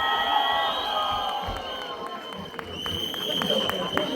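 Cheering and applause from a crowd of fans at a Delhi movie cast event, with shouts and whoops rising over a busy roar of many voices and scattered clapping.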